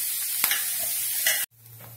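Clam meat stir-fried in a hot pan gives a steady bright sizzle, with a couple of scraping stirs. It cuts off abruptly partway through, leaving a faint low hum.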